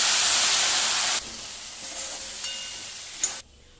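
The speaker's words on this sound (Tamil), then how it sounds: "முருங்கைக்காய் வேக விட்ட ஜலம், அதையும் கொஞ்சமாக விட்டுடலாம்" Sizzling and hissing in a frying pan as water from boiled drumsticks is poured in and stirred for an Andhra-style drumstick fry; a loud, steady sizzle that abruptly drops to a quieter hiss, with a brief clatter near the end.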